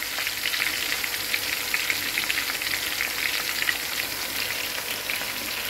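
A saag tadka sizzles and fries steadily in a pan in a home kitchen, a dense, even crackle of hot oil held at a constant close level, with no talking.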